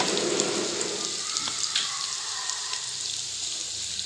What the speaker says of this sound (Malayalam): ആദ്യം ചുവന്നുള്ളി ഇട്ട് കൊടുക്കാം ചുവന്നുള്ളി ഒന്ന് മൂത്ത് വരുമ്പോൾ